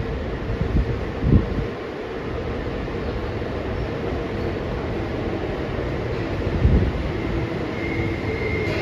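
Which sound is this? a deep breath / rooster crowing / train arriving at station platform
train arriving at station platform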